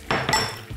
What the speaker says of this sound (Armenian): հավի բդիկները հանում ենք տապակից